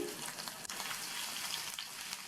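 Crushed ginger and garlic fry in hot oil, giving a steady, close, dense sizzle that continues evenly throughout with no talking.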